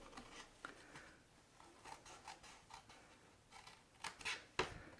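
Paper card stock is cut along a score line while making a hexagon twist pocket fold card, a quiet series of short, crisp snipping and rubbing sounds with brief pauses between cuts.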